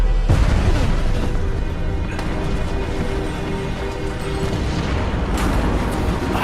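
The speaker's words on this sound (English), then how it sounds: "I should have warned them about, you know, the other helicopter that they're about to crash into" A helicopter crashes and explodes in the Metal Gear Survive video game as a dense, sustained roar of rumbling debris and blast noise, loud and continuous with no talk.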